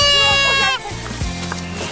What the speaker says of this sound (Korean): 형님과 아우가 정신없이 뒤쫓는 건 생후 2개월 된 흑염소입니다.